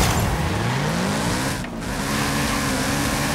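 A Toyota GR86 in Forza Horizon 5 revs hard with wheelspin, its engine note climbing steadily under a continuous loud roar of tyre noise, with a brief dip before the strain resumes.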